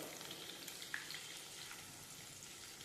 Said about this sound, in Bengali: আর একটু লবণ দিয়ে আলুগুলোকে ভালো করে ভেজে নেবো